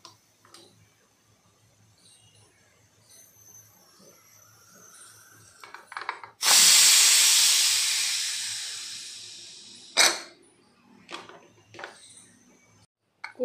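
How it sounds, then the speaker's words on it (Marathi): Steam bursts from a pressure cooker's whistle while masala rice cooks. It is a loud, close hiss that starts suddenly, holds for about four seconds and tapers off, framed by faint clicks and clatter. "कुकरची शिट्टीत हवा गेलेली आहे।"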